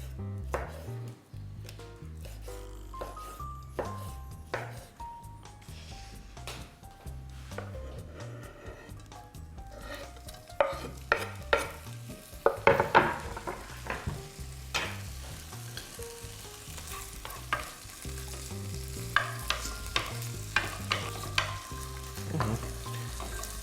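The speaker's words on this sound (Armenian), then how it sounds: "բուսայի մեջ կտապակենք խոզապուխտ" Ham sizzles in a pan, a soft continuous fry broken by scattered spatula knocks, scrapes and clicks, some sharper clatter in the middle, and no voices.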